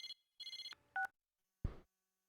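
A phone call alert in the video game Persona 4 Arena sounds as a short run of clean electronic beeps and tones, then a brief soft thump, quiet and isolated with no talking.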